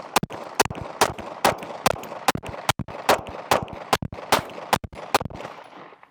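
A rifle (Radian Ramjet and Afterburner setup) fires Speer Lawman ammunition in a rapid string of about fifteen sharp, loud, close reports, evenly spaced with brief gaps between shots.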